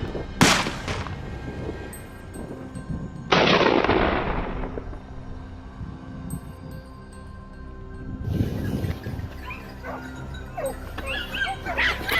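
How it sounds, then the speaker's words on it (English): Hunting dogs bark sharply during a wild boar hunt to protect crops, giving a few loud, separate bursts spaced several seconds apart over steady outdoor background noise. "Suddenly, our dogs barked sharply, signal confirmed."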